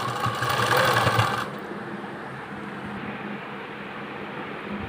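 A sewing machine runs a short burst of stitching along a folded seam on a palazzo trouser, loud for about a second and a half, then cuts out, leaving a low steady hum.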